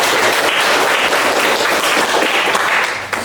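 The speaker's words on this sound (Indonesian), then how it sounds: "Tepuk tangan untuk kita semua." A classroom full of students clapping together, steady and lively applause for a few seconds before it starts to fade.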